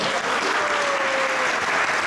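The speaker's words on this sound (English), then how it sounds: "You can clap." Steady, dense audience clapping fills the room at a Radhastami celebration at ISKCON Toronto, continuous and fairly loud throughout with no break.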